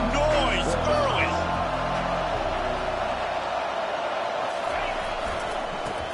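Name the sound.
stadium crowd noise at a college football game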